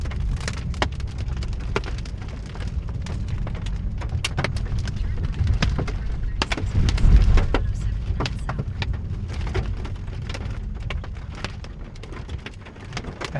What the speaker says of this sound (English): There's some of the hail.